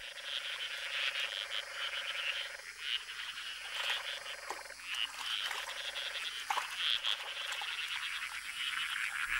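Hundreds of golden frogs gathered at small ponds in Madagascar's dry forest, croaking in a dense chorus of overlapping chirps and calls that runs without a break, close and lively, with no speech.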